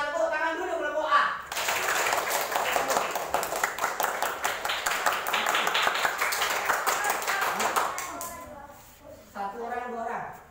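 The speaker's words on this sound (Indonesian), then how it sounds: "Kita tepuk tangan dulu kelompok A." A group of elementary school children clapping hands together in a classroom, a long burst of quick rhythmic claps between stretches of a teacher speaking.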